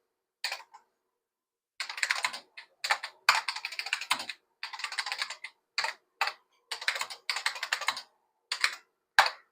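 Someone types a short BASIC program on an IBM 5150 PC keyboard: close, crisp bursts of rapid keystrokes separated by short pauses, with no talking.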